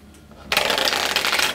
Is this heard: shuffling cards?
yes